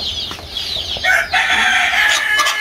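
An Egyptian Fayoumi rooster on a small poultry farm lets out a single crow, close and fairly loud, with faint clucks from the flock around it.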